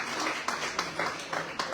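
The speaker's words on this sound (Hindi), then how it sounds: "जोरदार तालियां इनके लिए।" Brief applause at a school poetry recitation competition, heard as a quick burst of audience clapping with faint rhythmic pulses and a little background murmur.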